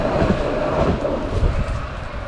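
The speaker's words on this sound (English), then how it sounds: "There's a tram going past down there" A tram rumbles past at a distance, a steady low roar with some wind-like noise, no voices present.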